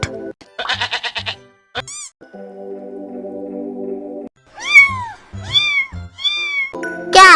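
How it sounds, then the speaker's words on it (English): Cat meowing among animal-name lesson sounds: a rising and falling meow repeated three times, close and clear, after a brief bleat-like cry and a steady held tone, with no talking. "Cat."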